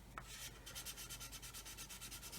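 Filler is sanded smooth on a 1/144 Roden C-141B Starlifter plastic model kit. Soft, close, rhythmic back-and-forth rubbing strokes continue throughout, quiet and with no voices.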